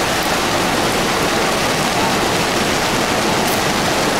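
Heavy rain pours down on a street in Vila Prudente, São Paulo, during a storm: a dense, steady, loud hiss of rainfall that fills the whole clip with no pauses and no voices.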